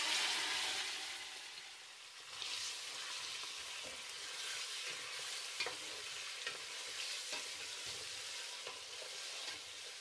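About a kilogram of small-cut chicken breast sizzles in a cup of oil in a pan while being stirred, a steady close frying hiss with scraping stir sounds and no talking.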